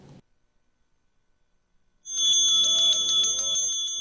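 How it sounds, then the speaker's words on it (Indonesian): A Balinese priest's brass hand bell (genta) rings during Galungan prayers at Pura Jagatnatha in Denpasar. After about two seconds of near silence it starts ringing continuously, a bright, sustained, shimmering tone close by with no talking. "Alunan suara genta yang digemakan oleh pemangku ini mengantarkan persembahyangan umat Hindu di Pura Jagatnata Denpasar saat Hari Suci Galungan"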